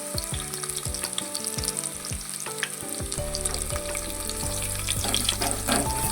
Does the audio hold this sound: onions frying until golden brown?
yes